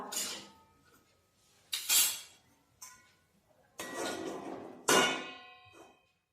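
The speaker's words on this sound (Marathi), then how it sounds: "आता आपण कढईवर झाकण ठेवूया।" A lid is set onto a kadhai (wok) holding broad bean pods, several sharp metallic clangs and rattles up close, separated by short quiet gaps, with ringing tails.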